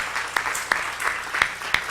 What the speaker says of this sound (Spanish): Dale un aplauso a Cristo porque Él ha sido bueno con nosotros